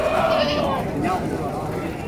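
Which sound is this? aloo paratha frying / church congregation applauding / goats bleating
goats bleating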